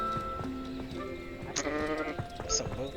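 Sheep bleating in the video game Hogwarts Legacy, several short wavering bleats over game ambience, with a person talking faintly in the background.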